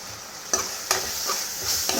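Steady oily sizzle from a pan frying with chili powder, with a few light stirring scrapes breaking through, close and continuous, no voices.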